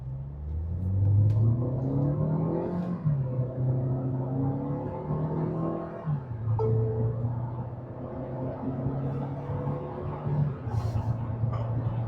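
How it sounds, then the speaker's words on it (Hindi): A Tata Safari with a 1.5 litre turbo petrol engine accelerates hard from standstill to 100 km/h in sports mode, its engine note steadily climbing through gears with brief dips at shifts, a loud continuous in-cabin drone. "अब ट्राई करते हैं गाड़ी को स्पोर्ट्स मोड लगाने के बाद कि ये 0 से लेकर 100 तक कितने सेकंड में जाएगी"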